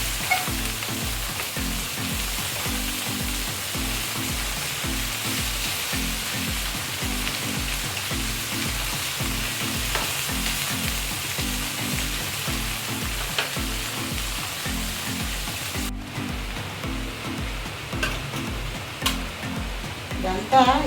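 Garlic fries in a pan for a thotakura (amaranth leaf) curry, giving a steady, close, even sizzle with faint rhythmic stirring underneath throughout.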